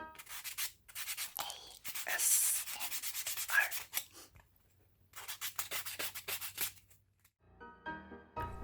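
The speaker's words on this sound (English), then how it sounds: "And then sanding the surface so it'll give the fabric paint something to hang on to." A surface being sanded by hand to prepare it for fabric paint, heard as close, rhythmic bursts of scratchy rubbing separated by short pauses.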